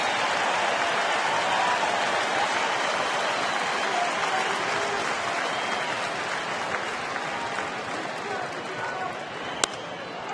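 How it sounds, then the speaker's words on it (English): A baseball stadium crowd applauds and cheers for the pitcher on a full count, a continuous wash of clapping and crowd noise under a broadcaster's commentary, with a sharp crack near the end. "Crowd trying to get behind Bonderman here on 3-2"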